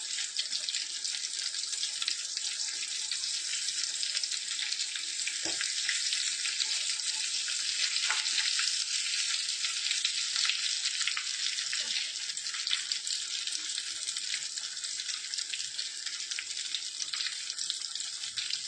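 A paneer cutlet, just turned, fries in hot oil with a dense, even hiss that holds steady and close for the whole stretch, broken by a few faint clicks.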